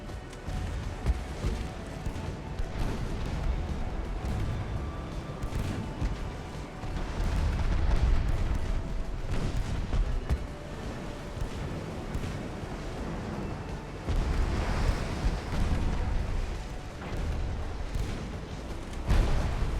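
Heavy naval gunfire from battleships in the video game Ultimate Admiral: Dreadnoughts: a dense, continuous barrage of deep booms and rumbling blasts rolling on for the whole stretch, with louder surges partway through and no voices.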